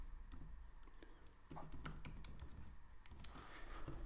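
Card details being typed on a computer keyboard: quiet, irregular key taps in quick clusters over a low background hum, with no talking.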